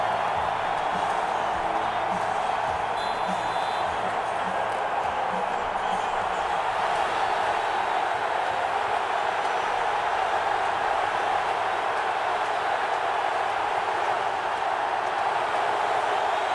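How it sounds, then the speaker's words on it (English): Steady, loud roar of a football stadium crowd at a Green Bay Packers home game against the Chicago Bears, a dense continuous wash of noise with no clear breaks and no talk over it. "trying to beat this crowd noise"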